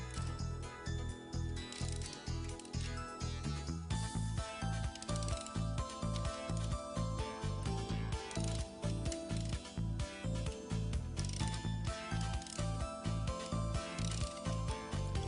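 Cylinder head bolts being unscrewed on a Saab 9-3 B207 engine, a rapid rhythmic ratchet clicking repeating steadily and close, with no talk.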